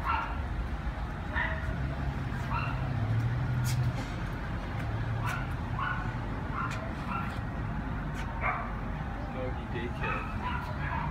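Several dogs bark and yip intermittently at a shop selling dog goods, moderately distant over a busy indoor hum, with people talking throughout.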